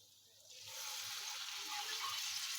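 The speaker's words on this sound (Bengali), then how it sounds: "একটু পানি দিয়ে দিচ্ছি" Water is poured into a pan of spiced fish curry with sliced potatoes, a soft continuous gushing pour that begins about half a second in and keeps going, quiet and close.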